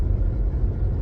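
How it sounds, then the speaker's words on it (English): A car drives along a coned-off street, its steady low engine rumble filling the whole moment at close range with no talk over it. "sorry if you hear this car"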